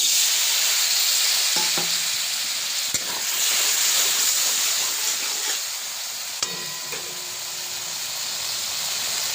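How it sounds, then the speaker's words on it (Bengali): A spice paste being sautéed in a pan for a taro (gati kochu) curry gives a steady close sizzle and hiss, broken by a couple of sharp utensil clicks; no one speaks. "এবার মশলাটাকে একটু কষিয়ে নেবো"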